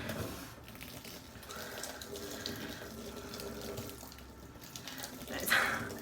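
Running tap water splashes steadily over hands being rinsed from fingertips down toward the elbows during a veterinary surgical scrub, a continuous close hiss with a brief louder splash near the end.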